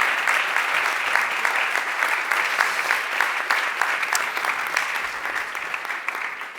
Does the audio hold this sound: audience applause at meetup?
yes